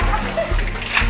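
Water splashing and splattering during outdoor Holi play with plain water instead of colour, a short burst of wet spray close to the microphone with children's voices mixed in.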